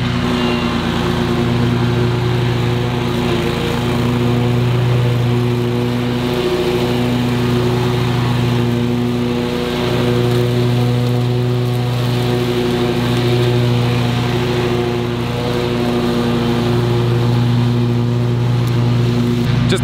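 A Scag V Ride 2 stand-on lawn mower runs steadily at close range, its engine drone holding a constant pitch with slight dips in load while cutting grass, loud and continuous throughout.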